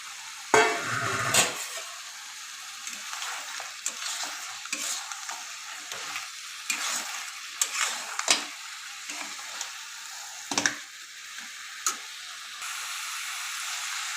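Crab pieces and fried potatoes are stirred in spiced oil, a soft sizzle under repeated scraping and clattering strokes of a spatula against the pan, irregular and close.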